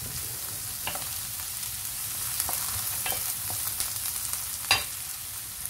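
Onions sizzle and fry in a hot pan, a steady crackling hiss broken by a few sharp pops and light stirring clicks, heard close with no voices.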